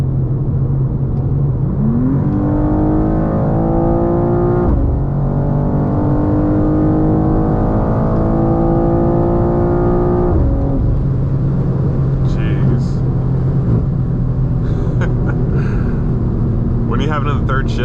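A G87 BMW M2 drives with its exhaust droning loud and steady from inside the cabin, rising in pitch as it accelerates through the gears, while a person talks over it.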